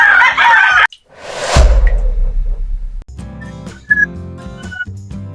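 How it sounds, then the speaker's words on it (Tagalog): Chickens cluck loudly and close by while a rooster crows, with scattered squawks and calls in an uneven rhythm and no talking. "Gandang manok, ang taas."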